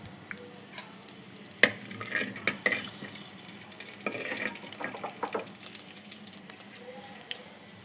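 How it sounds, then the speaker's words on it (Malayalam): Mustard seeds spluttering in hot oil while cooking tapioca stir-fry, with scattered sharp pops and crackles over a faint sizzle, some louder bursts near the start. "കടുക് പൊട്ടുണ്ട്."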